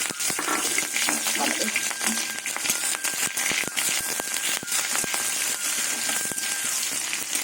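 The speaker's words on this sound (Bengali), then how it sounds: "রসুনটা হালকা করে ভাজবো পুরো লাল লাল করবো না" Garlic with two dried red chillies and green chillies frying in mustard oil, a dense continuous crackling sizzle with scattered pops close by, while a voice talks over it.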